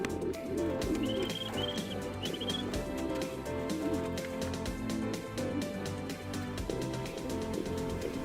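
Racing pigeons coo softly and chirp in a loft after a training flight from Pagbilao, Quezon, the faint calls sitting low under a steady, dense wash of background noise.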